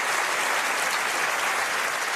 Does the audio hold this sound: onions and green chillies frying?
no